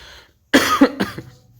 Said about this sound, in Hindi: थोड़ा सा खांसी हो गया है ना